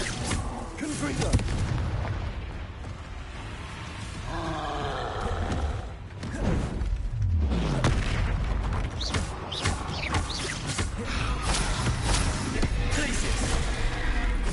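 Confringo spell blasts in Hogwarts Legacy go off as heavy booms and roaring explosions amid dense combat noise, with a voice shouting between the blasts.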